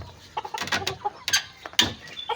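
Farmyard chickens clucking close by, with several short bursts of clucking and squawks spaced across the moment and no talk over them.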